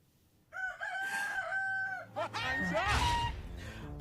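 Cartoon rooster crowing loudly in a long drawn-out call, followed by excited clucking, all close and prominent with no talk over it.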